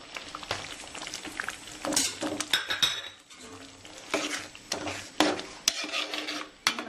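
Spoon stirring ground cardamom and cumin through paachoru in a metal pan, with irregular scraping and clinking strokes and a soft sizzle running continuously underneath.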